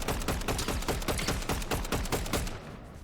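Rapid automatic gunfire in Fortnite Battle Royale ranked play, a steady rhythm of loud, close bursts of evenly spaced shots that stop abruptly near the end, with no talking.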